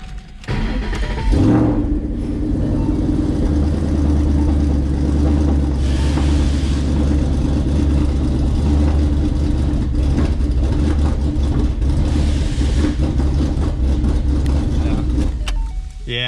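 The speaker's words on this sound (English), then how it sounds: "let's just go ahead and start it and see if it idles and doesn't run all funky" A Ford Mustang engine cranks and catches, then settles into a steady, loud, rumbling idle with a slightly uneven lope that continues close by and alone.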